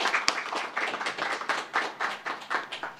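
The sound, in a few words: congregation applauding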